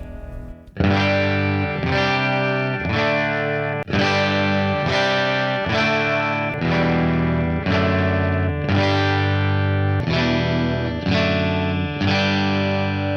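Electric guitar fitted with a Seymour Duncan vintage stack pickup in a parts-built Strat-style body, playing a steady sequence of strummed chords with a distorted, effects-laden tone, loud and close with no talking.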